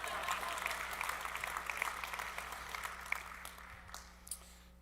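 Audience applause at an IT industry forum keynote, a brief burst of clapping from a crowd that tapers off over a few seconds, with a few stray claps at the end.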